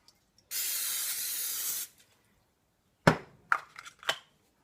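Spraying water: one long, loud, close hiss of about a second and a half, then after a pause a few short sharp clatters and taps.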